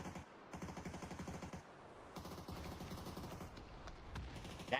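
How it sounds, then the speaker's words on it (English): A fast string of gunshots rattles through a battle royale video game match, fairly faint bursts of automatic fire with brief pauses, continuing steadily as background action. "Molotov goes out, shots towards Sparking"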